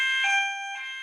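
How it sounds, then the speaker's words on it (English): A power alarm sounds a steady, piercing electronic tone with several bright layered pitches, loud and unbroken for about a second before easing slightly lower, with no voices over it. "that's our power alarm."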